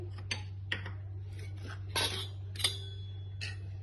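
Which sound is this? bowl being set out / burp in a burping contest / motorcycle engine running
bowl being set out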